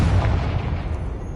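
A Confringo blasting spell in the video game Hogwarts Legacy goes off as a short, deep explosive boom that fades into a low rumble.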